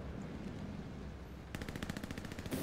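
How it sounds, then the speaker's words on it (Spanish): Automatic gunfire in the World War II shooter Hell Let Loose, heard as a rapid, evenly spaced burst of shots rattling off at mid distance after a quiet stretch of ambient battlefield rumble. "Me disparan a la torre, tío."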